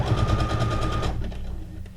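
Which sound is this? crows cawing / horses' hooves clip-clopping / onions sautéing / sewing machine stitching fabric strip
sewing machine stitching fabric strip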